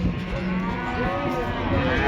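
A calf lets out a drawn-out moo at a livestock market in Kyzylorda, close and fairly loud, with a murmur of market noise around it.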